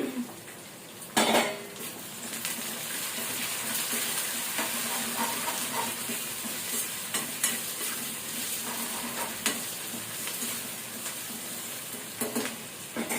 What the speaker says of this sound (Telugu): ఈ ఆనియన్స్ లైట్ రెడ్డిష్ కలర్ వచ్చే వరకు వేయించుకోవాలి.